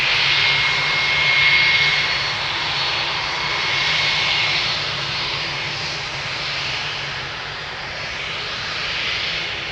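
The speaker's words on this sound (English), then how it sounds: "Vueling flight 1376 to Alicante. It is a 9-year-old A320." Vueling Airbus A320, nine years old, on Flight 1376 to Alicante at Amsterdam Schiphol, its jet engines a steady loud roar with a thin whine, swelling and easing slightly throughout.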